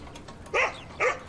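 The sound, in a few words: dog barking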